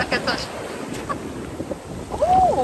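Waves roll and rattle pebbles on a black beach on Santorini, a close, steady wash of surf and grinding stones with wind buffeting the microphone and a brief voice near the end.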